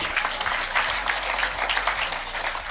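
Steady audience applause fills a town hall people's forum in Kingston, a continuous broadband patter of many hands clapping at even intensity with no talking over it.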